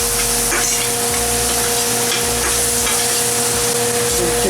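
Scallions and other ingredients sizzle steadily in a hot pan for a tandoori naan pizza topping, a continuous close frying hiss with no talking.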